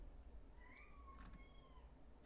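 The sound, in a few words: pet cat meowing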